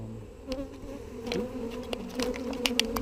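Honey bees buzz around an opened beehive, a close, steady droning hum with bees passing near, plus light clicks and rustles from handling the frames.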